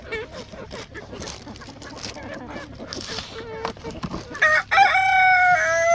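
Chickens cluck and fuss close by while a person talks, then a rooster crows loudly near the end.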